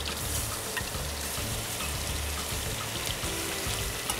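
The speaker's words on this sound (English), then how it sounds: "so I'm just gonna quickly sear this like this" Flank steak sears in a very hot pan with a generous amount of butter, giving a dense, steady sizzle and crackle close up that holds at an even level throughout.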